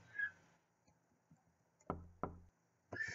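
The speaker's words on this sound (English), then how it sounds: "Knocking gets no response." In the Crooked Man video game, a door is knocked twice, sharp hollow raps standing out from a faint, quiet background with small ticks and a brief tone around them.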